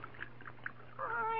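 A cat meows on a saloon bar in an old frontier radio drama, a drawn-out wavering cry rising out of a quiet, hissy room tone near the end.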